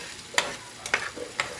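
A sardine omelette mixture is stirred in a pan, giving a few sharp scraping strokes spaced irregularly over a quiet background, close and fairly clear, with no talk.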